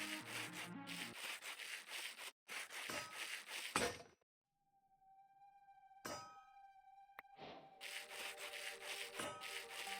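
Sandpaper sanding in Minecraft with the Create mod: coarse, rasping game scrapes come in bursts, break for a quiet gap with a sustained tone and a clink, then resume loudly.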